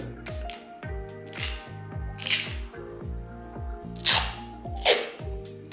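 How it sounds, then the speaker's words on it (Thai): Adhesive tape being pulled and wrapped around a 12V lithium iron phosphate battery pack, a series of sharp ripping and crackling strips with short tacky squeaks in an irregular rhythm, close and alone. "โอเค ต่อไปเราจะทำการพันเทปกาวนะครับ ผม เพื่อเป็นฉนวนด้านข้างนะครับ"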